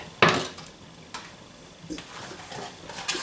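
A frying pan is handled on a home kitchen stove while cooking, giving a sharp metallic clatter at the start followed by lighter scattered knocks and scrapes. The sounds are fairly quiet and close, with no talking.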